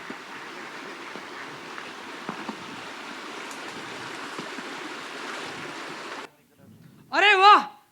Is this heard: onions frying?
no